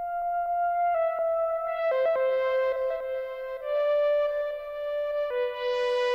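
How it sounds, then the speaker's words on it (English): Synth lead playing a supporting melody for a song bridge in Ableton, a thin sustained tone stepping through a line of held notes, clean and alone with no talk. "I took a stab at writing a different melody for this instrument,"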